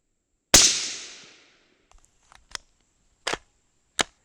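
A rifle loaded as an Mk262 clone cartridge fires one sharp, loud crack that rings out and decays, followed by several smaller clicks and three further short sharp reports spaced about a second apart at a range.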